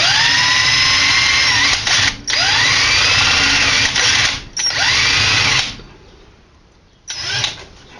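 A power drill driving a paddle bit into wood while making a flute, whining loud and steady in long runs that bog down and pick up again, with brief pauses between passes and a quieter stretch before a final short burst.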